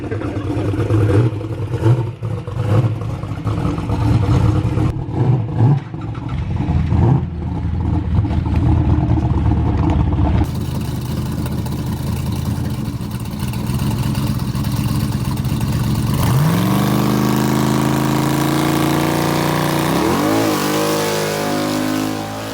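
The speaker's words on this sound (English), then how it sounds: "He just doesn't know how to do a mediocre burnout." A Ford street car does a burnout at a drag race, its engine revving hard and roaring loud and close, then holding a long, strained, rising wail as the tires spin.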